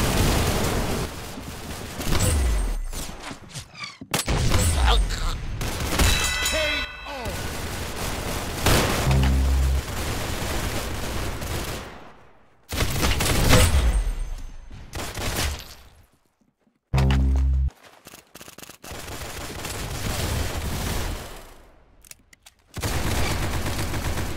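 Gunfire and bursts of shots in the Roblox shooter Arsenal, coming in loud clustered volleys with brief pauses and occasional heavy thuds.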